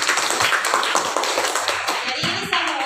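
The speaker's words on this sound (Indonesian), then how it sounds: "Tepuk tangan." A classroom of students clapping after a lesson on the human respiratory system, quick irregular claps from several hands blending into a brief close burst, with a voice faintly underneath.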